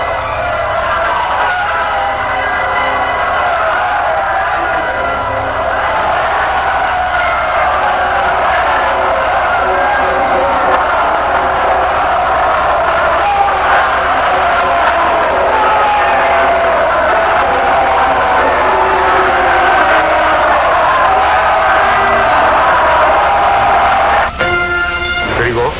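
A large crowd cheers and shouts continuously for nearly half a minute, a dense, loud, sustained roar with no break, with speech running over it.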